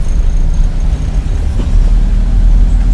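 A car on a driving lesson in Sylhet rolls forward under light throttle, with a steady, close engine drone and road rumble that swells slightly toward the end.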